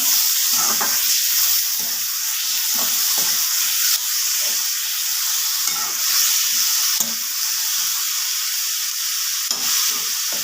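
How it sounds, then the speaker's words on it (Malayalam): Grated coconut and green chillies are stirred in hot oil in a pan, giving a steady loud sizzle with repeated scraping strokes of the spoon throughout and no talking. "തേങ്ങയും പച്ചമുളകും ഇട്ട് കൊടുക്കാം അതിന് ശേഷം എണ്ണയുമായിട്ട് ഇളക്കി ഒന്ന് യോജിപ്പിക്കാം"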